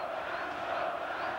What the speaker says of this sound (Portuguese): a torcida do Botafogo não para de cantar